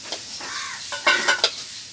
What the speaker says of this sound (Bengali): আমরা দেখতে পাচ্ছি আলুটা আমাদের ভাজি হয়ে গেছে।